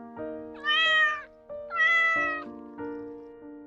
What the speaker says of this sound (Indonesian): Ketika Denis pulang sekolah, Jantan langsung berlari menyambut dengan suara khas kucing yang manja.